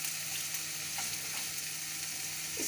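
Sliced onions fry in a pan over high gas with a continuous, even hiss and faint crackles. The sizzle stays steady and nearby throughout, with no voices.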